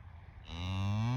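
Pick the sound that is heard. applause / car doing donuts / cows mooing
cows mooing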